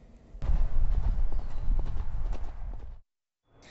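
Horse hooves pounding during fast riding by a professional rider, heard as a rapid, loud, close drumming of galloping clip-clops that stops abruptly, followed by a brief silence.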